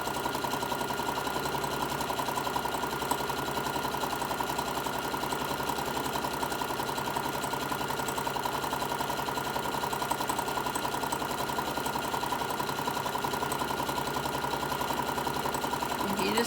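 An electric sewing machine stitching a seam along a fabric lanyard, running at a steady fast rhythmic whir without pause, close and even in loudness, with a person talking faintly over it.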